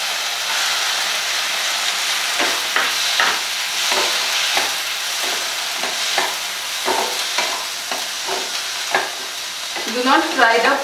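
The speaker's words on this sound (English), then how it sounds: "Do not fry the prawn more because it becomes rubbery otherwise" Prawns fry with mushrooms in a pan, a loud steady sizzle with repeated scraping stirs throughout and a quick run of rattling strokes near the end.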